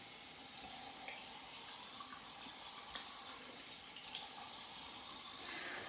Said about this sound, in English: rinsing down here